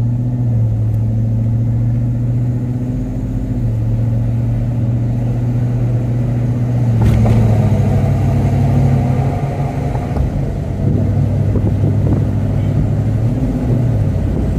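A wide-body Cadillac Escalade EXT drives along with a steady low engine drone and road rumble; around the midpoint the pitch steps as the transmission shifts, then the engine settles into a new, slightly louder hum.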